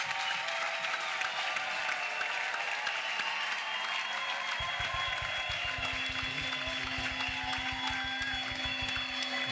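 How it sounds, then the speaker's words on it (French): A church congregation at an outdoor salvation and healing crusade in Bafoussam claps and cheers in a dense, continuous wash of applause. A steady rhythmic beat joins partway through. "La famille, Acclamez. Clap, clap, clap."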